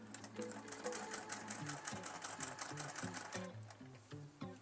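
Close up, a sewing machine runs a fat quarter-inch top stitch at a 3 stitch length in one continuous whirring run with a rapid rhythmic clatter, and nobody speaks.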